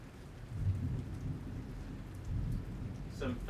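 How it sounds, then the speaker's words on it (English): Thunder rumbles low and heavy through steady rain falling on surfaces during a lightning storm, a deep rolling swell that builds and fades beneath the hiss of the downpour. "Some thunder."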